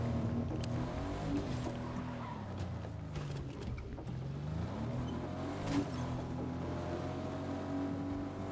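A vehicle engine drones steadily in Fortnite Chapter 5, its pitch rising and falling as the car drives, loud and continuous with no talking.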